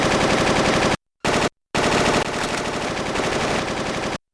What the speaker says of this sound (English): Suddenly, gunfire.